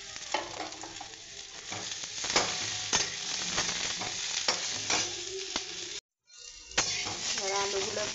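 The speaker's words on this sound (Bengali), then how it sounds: "এবার আলুগুলো একটু লাল লাল করে ভাজা হোক" Cut potatoes fry in hot oil with a steady sizzle, punctuated by clanks and scrapes of a spoon stirring the pan, and the sound briefly cuts out before the frying continues.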